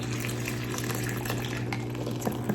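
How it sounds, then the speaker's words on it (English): Ice-cold water pours into a container for making dumpling dough, a steady close gushing stream that runs without a break and ends with a couple of faint clinks near the end. "We need 1 cup of ice cold water."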